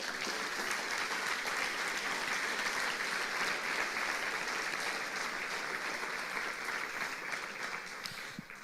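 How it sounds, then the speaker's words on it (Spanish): A church congregation applauding during a sermon, sustained dense clapping that stays even and fairly distant for several seconds before easing slightly at the end. "Dale un aplauso a Dios"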